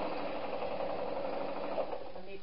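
A sewing machine runs steadily, sewing the sides of a fabric knitting needle case with a continuous mechanical hum at close range, no voices.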